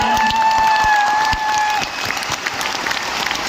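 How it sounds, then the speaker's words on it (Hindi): An audience breaks into loud, sustained applause, many hands clapping together, with a few high whistle-like tones early on. "दशरथ मांझी के लिए जोरदार तालियां बजनी चाहिए"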